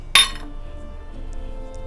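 A metal spoon clinks once, sharp and close, against a bowl as rice flour is added to wheat flour, followed by quiet faint handling.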